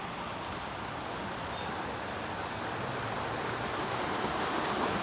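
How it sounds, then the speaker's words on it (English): Water trickling and splashing steadily in a Japanese-inspired garden water feature during a spring tour in Amarillo, a continuous close wash of flowing water with no talk over it. "Oh, and another nice water feature."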